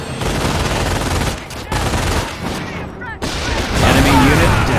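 Rapid gunfire and explosions fill a Company of Heroes battle in Normandy, a dense loud barrage of rifle and machine-gun bursts with a voiced unit callout over the din.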